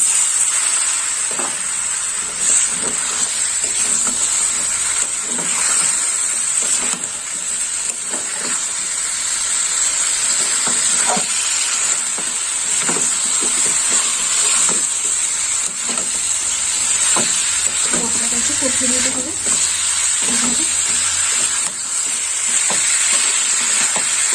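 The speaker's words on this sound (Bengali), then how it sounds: "মাছের মাথাটা একটু মশলার মধ্যে কষা হবে একটু জল দিয়ে দেবো" A fish head sizzling in spice masala in a pan after water is added, a steady hiss of frying and steam that runs throughout, with occasional soft clicks and stirring scrapes.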